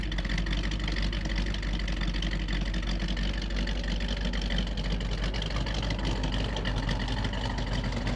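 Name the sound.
Chevrolet C2 Corvette 327 engine with solid lifter cam idling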